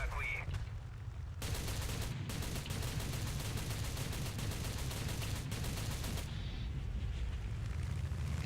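Sustained heavy gunfire in the War Thunder combat game, a dense rapid rattle that runs for several seconds at low overall volume before easing off.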